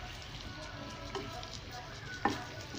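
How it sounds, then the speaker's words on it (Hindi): Fish frying in a pan over high heat gives a steady, low sizzle throughout, with one sharp clink near the end. "हिनखे असां थोड़ी तेज़ बाहि ते फ्राई कंदासीं जीअं जल्दी जल्दी पची वञे।"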